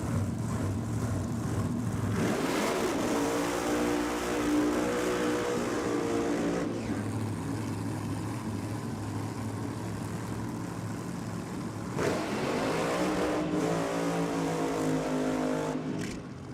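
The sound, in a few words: big block Chevy drag racing engines at nitro champs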